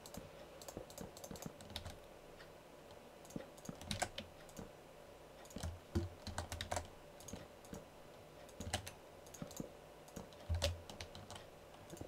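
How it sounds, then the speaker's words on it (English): Quiet, close-up typing on a mechanical keyboard, irregular bursts of sharp key clicks with a few heavier strikes standing out, no talking. "sorry if you can hear my keyboard, I just realized that I'm kind of hitting the keys quite hard"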